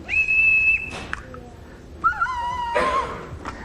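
A whistle lengthened by an added tube piece sounds in a lab demonstration, giving two steady tones of about a second each with a brief chirp between them, loud and close.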